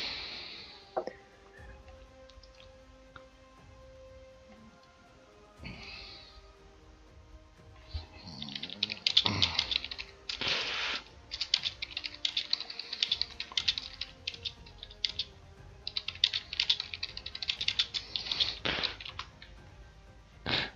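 A computer keyboard clatters nearby in irregular bursts of quick keystrokes, sparse at first and then dense and busy, with short pauses between flurries.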